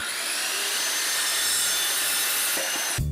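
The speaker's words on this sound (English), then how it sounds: "I'm cutting these with a coping saw" A coping saw rasps steadily through wood in fast, even strokes, close up and loud, then stops with a light knock at the end.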